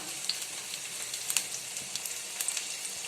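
Mustard seeds crackle and sizzle in hot oil in a pan, a steady faint frying hiss broken by small scattered pops, with no talking.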